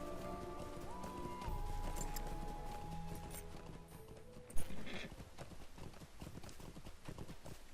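Horse hooves clip-clop in a steady rhythm during a taxi ride to Rivendell in the online game Lord of the Rings Online, with a brief whinny and sustained musical tones underneath, moderately loud and continuous.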